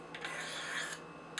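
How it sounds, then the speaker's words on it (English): Steady, fast rasping strokes of a knife blade on the ceramic rods of a Spyderco Sharpmaker, alternating sides in a continuous close scrape with no pauses or talk. "I am going to use alternating strokes,"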